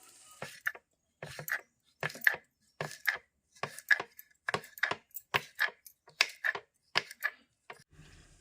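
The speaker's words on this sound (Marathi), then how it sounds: "तोपर्यंत आपण गरे कट करूया परत." Jackfruit bulbs being cut by hand in a village kitchen: a steady series of about fourteen crisp knife chops on a board, close and clear, with short pauses between strokes.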